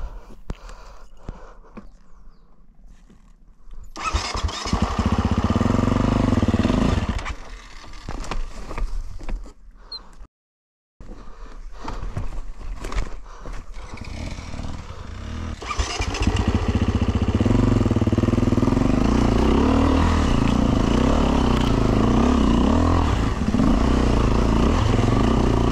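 A four-stroke motorcycle engine rides a Romaniacs mountain enduro trail, with quiet starts giving way to loud revving bursts, a brief cutout, then sustained hard throttle close to the mic.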